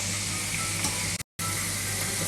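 Besan-coated spicy chips frying in hot oil give a loud, steady sizzle with dense bubbling that carries on unbroken, apart from one brief cut partway through.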